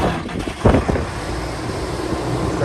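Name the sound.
1984 International 5088 tractor engine starting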